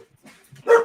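A dog gives a short, sharp bark near the end after a few faint whimpers and shuffles, close by in a quiet room.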